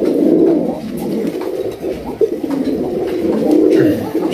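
Pigeons on a Bangladeshi farm holding about fifty breeding pairs give loud, close, repeated throaty coos that roll and overlap almost continuously.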